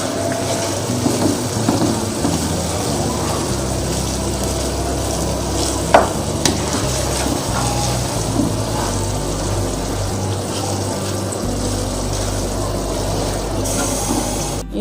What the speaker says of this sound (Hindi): मैंने पालक डाल दिया, इसको मैं मिक्स करूंगी इसके अंदर।